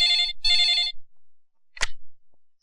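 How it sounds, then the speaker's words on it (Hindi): A telephone ringing in an office, two bright electronic trill bursts back to back, followed after a pause by a sharp click as the receiver is lifted. "एक मिनट सर, आपका फोन।"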